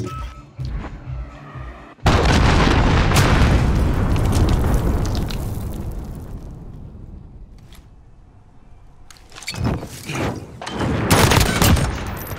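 Enemy cruise missile strike in Call of Duty: Modern Warfare: a loud, heavy explosion bursts in suddenly and rumbles on for several seconds before fading, then further blasts and pops break out near the end.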